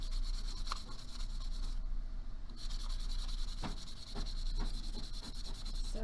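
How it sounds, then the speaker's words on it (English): Steady scratchy rubbing of sandpaper on wood, continuous and close, with a few faint taps and a brief quieter pause partway through. "So I'm just kind of sanding to knock off the corner."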